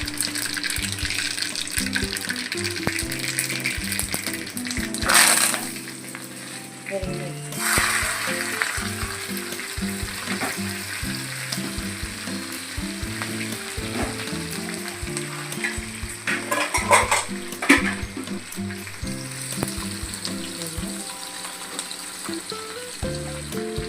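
Mustard seeds and cumin sizzle in hot oil for an aloo sabzi, a steady dense crackle with sharp popping bursts and faint stirring, continuous and close throughout.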